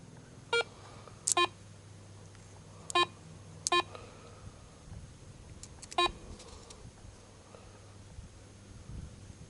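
Garrett Ace 150 metal detector giving five short, sharp electronic beeps at irregular intervals, close and clear over faint wind and distant traffic hum.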